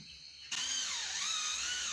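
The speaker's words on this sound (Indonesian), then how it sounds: "Nah, oke, kita bor dulu, kasih tanda dulu." A power drill bores into concrete while a sliding glass door is being installed; after a brief quiet moment it starts abruptly and runs as a loud, steady, close whine to the end.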